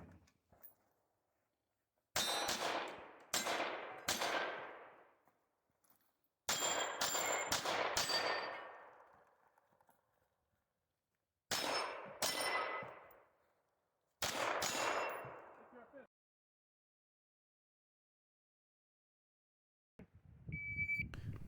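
Rifle and handgun fire at a shooting match stage with targets around 100 yards, loud sharp shots in quick clusters separated by pauses, each crack ringing out with a decaying echo.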